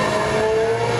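Race car engine in the Project CARS 2 racing sim, a steady loud high-pitched drone with a rising rev tone, close and continuous without talk.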